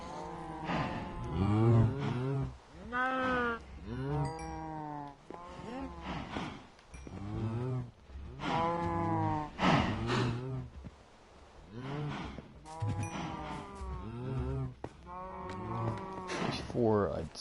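Several cattle in a video game low and moo again and again in long, bellowing calls with rich harmonics, fairly loud and near, spread across the whole stretch with no talk over them.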